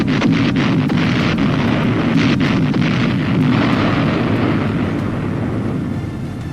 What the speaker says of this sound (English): The Big Belly 500-pound bomb test at Eglin was highly successful.